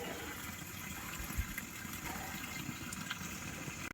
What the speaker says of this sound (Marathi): हे पाणी जे आहे ते वरती डोंगरातून झऱ्याचं पाणी असं पायपाद्वारे इथे भात शेतीसाठी घेतलेलं आहे